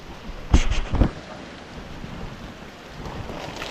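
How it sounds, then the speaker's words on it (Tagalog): Steady rainfall hiss throughout, with two sharp low thuds near the start and a softer swell of noise toward the end. "Kaso umuulan na."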